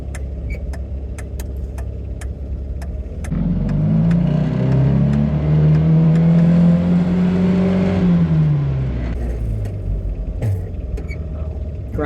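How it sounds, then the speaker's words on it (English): A 1969 Mazda Carol's small engine revs loudly while driving, rising in pitch as it pulls up to speed, then dropping off, with intermittent clicks and rattles from the cabin. "The engine, got to give it gas to get up to any speed, so it gets kind of loud."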